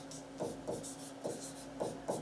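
Pen or pencil writing by hand on paper: a quiet run of soft, scratchy strokes in short bursts, closely miked, with no voice over them.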